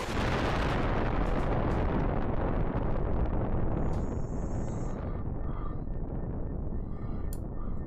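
A fusion bomb detonates in a video game: a massive roaring blast with a long rumbling tail that slowly fades over several seconds, with scattered debris crackles afterward.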